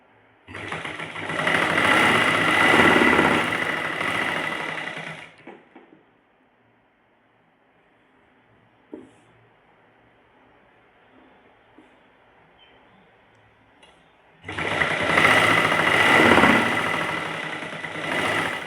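A sewing machine stitching a salwar seam runs in two fast, steady whirring bursts of about five seconds each, separated by a long quiet pause with a faint click.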